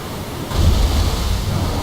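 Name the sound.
ocean waves in video game Assassin's Creed Odyssey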